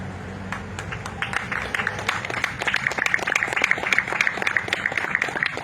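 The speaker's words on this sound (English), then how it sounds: "We can give them another round of applause for their excellent reading." An outdoor audience claps after children read the Declaration of Independence in Milford, New Hampshire, a moderate crowd's steady applause that swells slightly midway and continues to the end.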